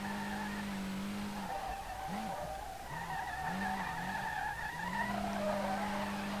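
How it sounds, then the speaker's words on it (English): A car in the SLRR video game clutch-kick drifts: a sustained tire skid and squeal rides over a droning engine note that wavers and revs up and down mid-slide before settling back to a steady tone; no speech. "I'm gonna try and start clutch kicking."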